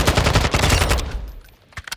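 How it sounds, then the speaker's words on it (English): Rapid automatic gunfire in Call of Duty: Modern Warfare II rattles off in a loud, dense burst for about a second, then stops, and a couple of isolated shots follow near the end. "if you aim down sight and fire early"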